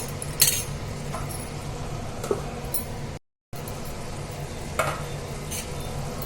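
Taro (colocasia) curry bubbling gently in a pan on the stove, a steady low simmer with occasional spoon scrapes and clinks against the vessel, close and moderately loud, with a brief dropout partway through.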